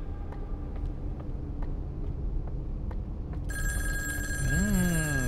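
A telephone rings inside the psychological horror video game In Sound Mind, a bright electronic trill that cuts in partway through over a low rumbling ambience with faint ticks, followed by a swooping warped tone.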